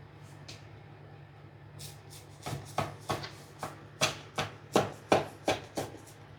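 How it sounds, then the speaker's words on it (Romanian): A knife cuts a slice from a baked gingerbread cake, several crisp crunching strokes that quicken and grow louder toward the end, close and quiet against a low background hum. "Acum o să tai o bucată să vedeți interiorul."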